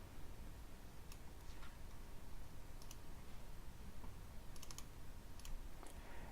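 Keys on a computer keyboard are tapped in short, sparse bursts, faint and close, against a low steady background hiss with no talking.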